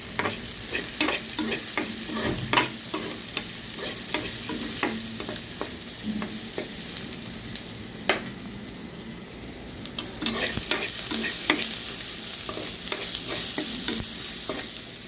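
Onion, garlic and ginger sautéing in a pan for a spicy okra tamarind curry, a steady close sizzle punctuated by repeated quick stirring clicks and scrapes, with no talking.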